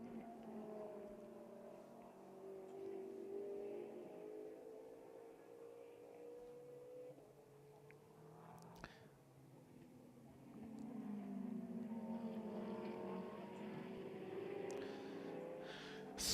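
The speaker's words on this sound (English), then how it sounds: "Neblitsky and Keane as they accelerate through Chapel Curve and on to the Hangar Straight." GT race cars accelerate through Chapel Curve at Silverstone during an International GT Open race, engines droning and rising in pitch as they pass at a distance, fairly faint with a second wave of engine sound building near the end.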